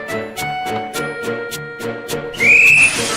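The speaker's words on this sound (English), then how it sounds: "The guard blew his whistle, and Thomas was on his way." A train guard's whistle at a station gives one loud, sustained shrill blast near the end, rising above rhythmic background music with steady pulses.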